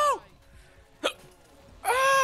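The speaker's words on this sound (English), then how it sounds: "Ah, the hiccups killed me!" Three sharp hiccups from a VTuber streamer mid-game in High On Life, each a brief voiced burst with a tonal squeak, spaced apart and close to the mic.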